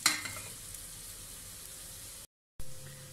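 Onion softening in oil in a pan for achari bhindi masala, with a quiet, steady sizzle after a brief louder crackle at the start, then a short gap of silence before the frying resumes.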